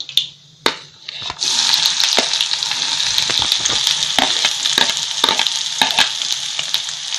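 Chopped onion dropped into hot oil in a pan for daal kanda, bursting into a loud, steady sizzle after a few sharp clunks, with stirring scrapes and crackles running throughout.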